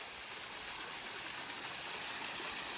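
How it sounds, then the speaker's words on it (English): Steady rushing roar of a waterfall at Hollingworth Clough, a continuous broadband wash of falling water, close and fairly loud with no voices. "So I'm impressed with this waterfall."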